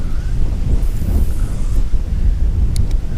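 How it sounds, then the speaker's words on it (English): Wind buffeting the microphone on a lake from a Pelican Bass Raider 10E fishing boat on a cloudy November day, a loud continuous low rumbling roar with gusty swells throughout and no talk. "Wind's picking up, making it tougher"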